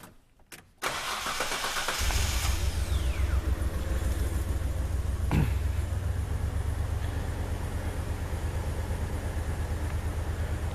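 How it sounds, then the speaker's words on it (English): A Hyundai Terracan with a misfire cranks briefly, then fires and settles into a loud, steady engine note with a faint uneven pulsing, close up and with no talk. "The engine do kind of have a little bit of a rough start"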